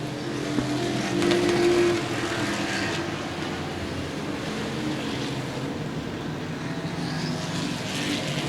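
Race cars running on an asphalt track with pull-offs, some on modified tires and some on street tires, during the Lone Star 600; a steady engine roar carries throughout, swelling slightly near the start, with no talk over it.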